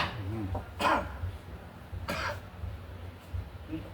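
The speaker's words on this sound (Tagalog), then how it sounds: "Umuubo na rin ako sa inyo." A couple of short, sharp coughs stand out against faint background noise and murmuring voices.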